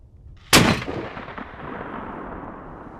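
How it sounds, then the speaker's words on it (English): A single loud rifle shot cracks close by from a rifle fitted with a single-port muzzle brake, followed by a decaying outdoor echo and a short rumbling tail. "Okay, shot number 1, single port."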